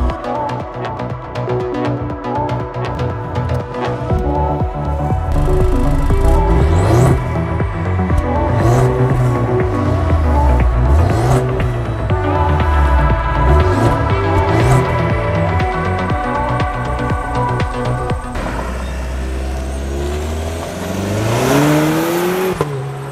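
A 2020 Cadillac CT4-V sports sedan drives on the road, its engine rising and falling in pitch through repeated gear changes, loud and steady throughout, with a stronger surge of acceleration near the end and no talking.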